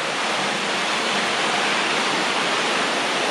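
Underground water rushes steadily through a limestone cave beneath an island village on Okinoerabu, a dense, unbroken roar of falling flow filling the space at an even level.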